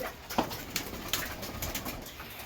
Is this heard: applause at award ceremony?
no